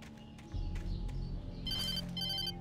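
A telephone rings in the video game Alan Wake, its repeated bell bursts sounding near and clear over a low ambient music bed, with no talking.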